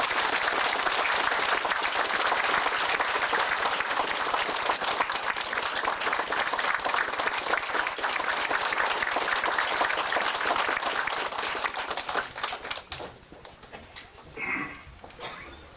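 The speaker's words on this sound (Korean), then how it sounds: "뜨거운 박수로 격려해 주십시오" Sustained, dense applause from a rally audience at a political party district chapter founding convention, loud and steady for about twelve seconds before thinning out and fading near the end.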